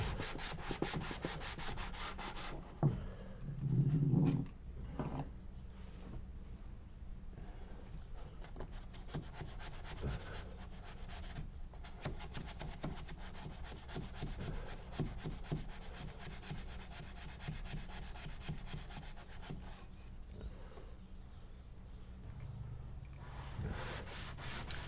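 Continuous rhythmic scraping of sandpaper rubbed back and forth by hand over hard fairing compound (System 3 Quick Fair) on a boat's foredeck, close and steady for the whole stretch.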